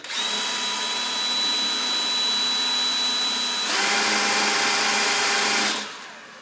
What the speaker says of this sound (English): drill out the hole in the plastic a bit for the size of the bolt